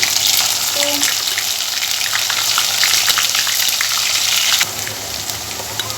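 Onion paste with garam masala spices frying in hot oil for chicken bhuna, a steady loud sizzle and crackle that fills the whole stretch and eases slightly near the end.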